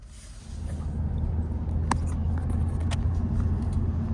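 A Ford F350 pickup towing a trailer pulls away and drives along a road with a low, steady engine rumble from inside the cab and a couple of brief knocks or clicks.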